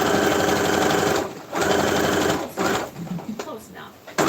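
A sewing machine stitches unicorn fabric in rapid mechanical bursts, running fast for over a second, pausing, then starting again in shorter runs with brief stops between them.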